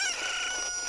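A cucco, a chicken from the video game The Legend of Zelda: Ocarina of Time on 3DS, crowing: one loud, shrill, sustained call filling the whole moment without talk.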